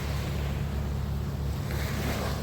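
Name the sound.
sea waves on the shore at Anawangin Cove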